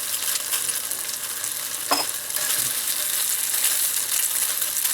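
An egg frying in a pan beside SPAM and cheese, a steady close sizzle and crackle running throughout with a brief utensil clink near the middle.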